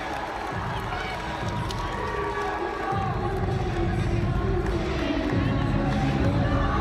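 A volleyball crowd at a Stanford versus Arizona State match cheers loudly and steadily after an ASU point. The roar swells throughout, with shouts and rising excitement under a broadband hall wash.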